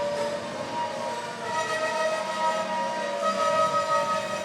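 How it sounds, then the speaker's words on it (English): BNSF eastbound freight train departing on the Needles subdivision in Arizona, a steady rumble of locomotives and rolling cars with sustained engine tones, continuous and fairly near. "an eastbound train leaving the BNSF's Needles subdivision"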